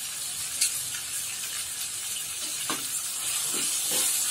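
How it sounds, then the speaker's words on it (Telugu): Tomato masala with turmeric and ginger garlic paste frying for goat liver curry, a dense continuous sizzle close by, with a few soft stirring scrapes through it and no talk. "కొంచెం ఫ్రై చేసుకోవాలి"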